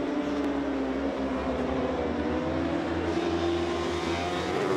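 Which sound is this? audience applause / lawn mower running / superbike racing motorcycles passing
superbike racing motorcycles passing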